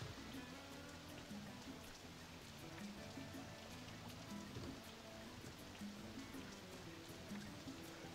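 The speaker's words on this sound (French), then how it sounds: "Et il pleut." Steady rain in the video game RollerCoaster Tycoon 3 patters softly and continuously, a faint even hiss with scattered drops and a low background murmur.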